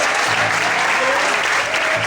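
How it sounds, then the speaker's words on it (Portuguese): A church congregation applauds during a sermon, a dense, loud and sustained wash of clapping with voices faintly mixed in. "Quantos podem aplaudir e exaltar ao Senhor por isso?"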